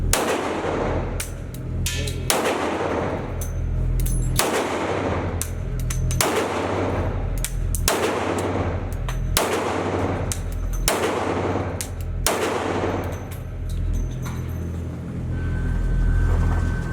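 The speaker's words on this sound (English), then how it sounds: "let's get right to my first shots" A Rock Island Armory Ultra FS 1911 pistol in 10mm fired at a range: about a dozen loud, sharp shots at a steady pace, each with a ringing tail, under a constant background rumble.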